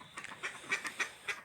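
Ducks quack in a vegetable garden, a quick run of nasal calls repeating several times, moderately close and fairly faint, with no talk.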